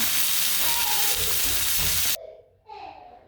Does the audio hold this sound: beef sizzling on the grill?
yes